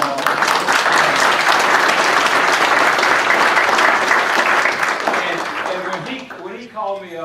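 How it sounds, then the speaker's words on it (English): A large audience at a judicial portrait reception applauds Kyle Jones with dense, sustained clapping that tapers off near the end as a voice begins speaking. "So I think we all give him a round of applause"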